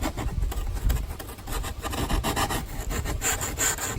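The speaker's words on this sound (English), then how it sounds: "the foam's really easy to sand, so it's no problem making them a little bit bigger" Foam parts for a homemade foilboard being sanded by hand, a steady close scraping rasp with quick repeated strokes running throughout, no voices.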